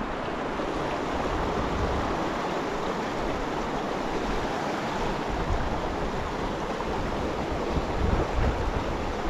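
Steady wind gusting beside a flowing river during tenkara fly fishing, a continuous broadband rush with water noise, loud and unbroken throughout with no talking.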